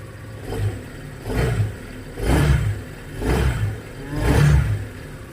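A motorcycle engine, checked for battery charging, is revved repeatedly in five rising and falling surges about a second apart, loud and close with an idling clatter between them and no talk.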